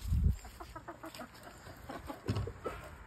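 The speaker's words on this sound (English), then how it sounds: "You're such a pretty rooster." A few low, throaty clucks from a rooster, close by, with short pauses between them and quiet farmyard background.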